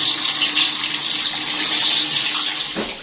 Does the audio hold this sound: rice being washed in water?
yes